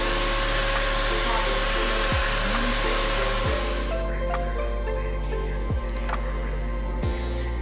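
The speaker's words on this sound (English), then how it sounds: "he asked me if he could vacuum, if I would video him vacuuming so he could be on here" A household vacuum cleaner runs steadily at close range while someone vacuums the house, a constant loud whine with brief dips in pitch as it is pushed around.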